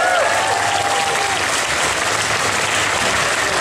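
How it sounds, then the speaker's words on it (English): An audience at a Family Feud-style game show claps steadily and loudly for several seconds, a dense, even wash of applause. "Give him a round of applause for that round too, everybody."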